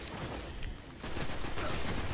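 Auto rifle gunfire in the Destiny video game, a dense rattling burst that dips briefly and then resumes steady and loud for the rest of the moment, with no talk over it.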